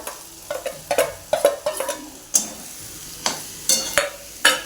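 Ground chana dal sautéed in hot oil with turmeric in a pan, a spoon scraping and stirring in repeated short strokes over a soft steady sizzle, close and alone.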